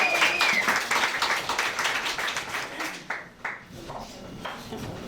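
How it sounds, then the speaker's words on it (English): A crowd applauds steadily, the clapping thinning out near the end, with a few short bright tones ringing over it. "One more round of applause for our panel."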